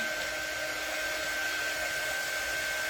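A hair dryer runs steadily on a handmade Cupid angel craft piece, a loud, close, unbroken whoosh with a constant high whine and no talking.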